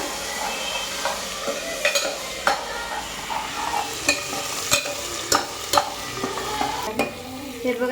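Onions frying in a pan, a steady bright sizzle with frequent metallic spatula taps and scrapes at an irregular rhythm, close up and without any talking.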